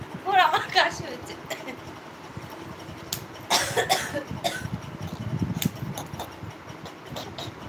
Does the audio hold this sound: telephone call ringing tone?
no